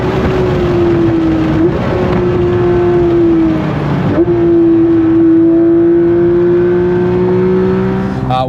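A Porsche 992 GT3 RS runs on a race track, its engine holding a loud, steady high-revving drone. The pitch dips briefly at gear shifts and then climbs steadily again, close and unbroken throughout.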